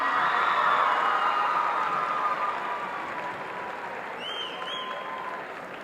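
Audience applause rings through a gym for the basketball homecoming king and queen and their court, sustained clapping that slowly fades, with a couple of faint whistles late on.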